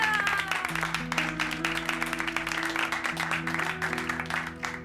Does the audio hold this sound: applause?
yes